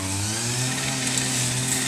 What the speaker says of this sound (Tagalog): umating na yung grass cutter natin